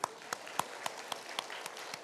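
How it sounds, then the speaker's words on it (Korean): Sparse clapping from a small audience at a Sunday church service in Korea, with about eight separate claps spaced out over two seconds at moderate distance. "박수 한번 하시죠"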